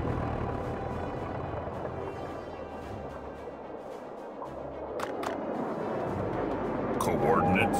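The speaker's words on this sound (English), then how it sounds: "Cannons, fire!" Cannons fire in a World War II real-time strategy game, sharp booms landing near the end over a constant battlefield rumble, with unit voice lines around them.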